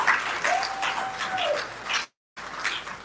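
A forum audience gives a round of applause, a steady rush of many hands clapping that breaks off into a brief total silence before the clapping resumes.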